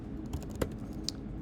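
Scattered keystrokes tap on a computer keyboard, a few sharp clicks standing out over a steady low hum, close and moderately quiet with no talking.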